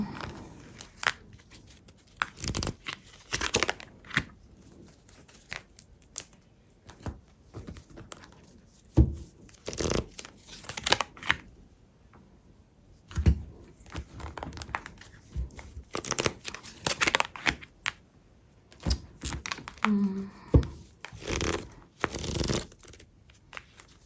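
Tarot cards being shuffled, handled and drawn during a reading, heard as close, irregular papery riffles, flicks and soft slaps scattered throughout, with a brief faint voice near the end.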